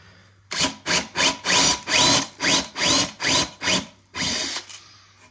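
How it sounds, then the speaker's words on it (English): A power drill whirs in about ten short, loud bursts with brief pauses between, boring holes into a wooden staircase newel post close by. "So I will just start drilling these holes."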